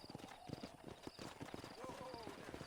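Horse hooves clip-clop in a steady trotting rhythm in the Western video game Red Dead Redemption, with a horse briefly whinnying and voices talking over the hoofbeats, all fairly quiet.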